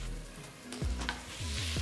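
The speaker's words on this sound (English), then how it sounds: "with the onions and garlic sweating down, stir in about 2 tablespoons of tomato paste" Onions and garlic sizzle in a pan as tomato paste is stirred in, a steady close frying hiss with a few scraping stirs of the spoon toward the end.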